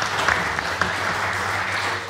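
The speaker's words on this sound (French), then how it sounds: "C'est beau, applaudissez-le" A live podcast audience at PodRennes 2022 applauds in a steady, loud wash of clapping that fills the whole moment without a break.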